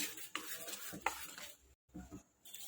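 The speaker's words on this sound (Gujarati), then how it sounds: "હવે બધું એવું સરસ આપણે મિક્સ કરી લઈશું" A spoon stirs thick dhokla batter in a bowl, with soft wet scraping strokes and a couple of sharper knocks against the side.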